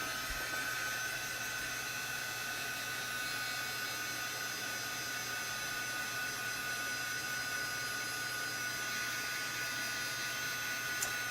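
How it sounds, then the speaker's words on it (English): A dryer runs continuously to dry mixed media paint, a steady loud electric whir and hiss with a constant hum that holds unchanged from start to finish. "So we're gonna come back with our dryer."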